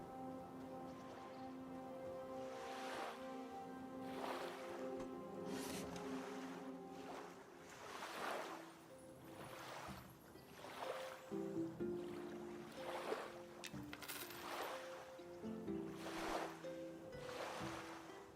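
Water lapping and washing in the video game Monsters and Memories, a steady continuous wash with repeated surging swells over a constant ambient bed, no talk.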